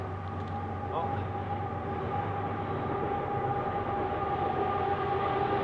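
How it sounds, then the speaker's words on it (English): A train rumbles steadily across the Dundas rail bridge over the Humber River in Toronto, a continuous low roar with a droning, whining hum sitting on top. "there we have a train going over the Dundas Bridge"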